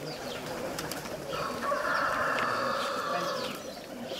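Racing pigeons of a tumbler breed in a Greek loft coo softly in a low, rolling murmur, a single close call swelling and fading over a few seconds against faint background noise.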